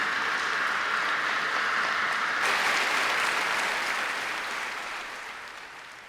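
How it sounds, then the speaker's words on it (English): An audience claps steadily to welcome a speaker at a mantra chanting festival, a broad wash of applause that holds even, swells slightly midway, then gradually fades toward the end. "Please welcome His Holiness 안경전 더 중도사님 with a big round of applause."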